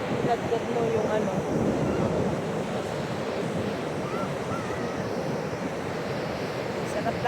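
Surf rolls and wind blows along a chilly seashore as a steady, close roar of breaking water and gusting air, unbroken from start to finish, with faint voices in the background.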